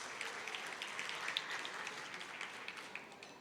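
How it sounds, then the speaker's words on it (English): Faint, distant audience applause for a senior chief at a royal family gathering, a soft continuous patter of many hands, steady and low in level. "Give him hands of applause."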